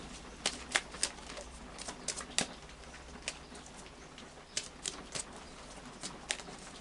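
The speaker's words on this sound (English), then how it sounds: "final shuffle then of the Moonology cards for you" Faint, irregular riffling and flicking of oracle cards being shuffled by hand, quiet and close, with no one speaking.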